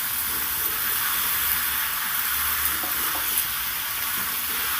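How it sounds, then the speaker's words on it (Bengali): Ground black pepper and spices being stirred in a hot pan of oil for chicken stew, a steady loud sizzle with a few soft stirring scrapes. "দেখুন সুন্দর করে একটু নেড়ে চেড়ে দিচ্ছি"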